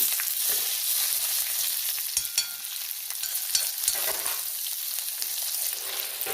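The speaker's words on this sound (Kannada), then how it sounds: "ಸಾಸಿನ ಹೊಟ್ಟಿದ ಕೂಡಲೇ ನೋಡಿ ಬೆಳ್ಳುಳ್ಳಿ ಸಹ ಕರೆಕ್ಟ್ ಅದೇ ಹೊತ್ತಿ ರೋಸ್ಟ್ ಆಗಿಬಿಡುತ್ತೆ" Mustard seeds and garlic sizzle and crackle in hot oil while roasting for a taro leaf (colocasia) chutney, a steady close frying hiss with scattered sharp pops and occasional stirring, no voices.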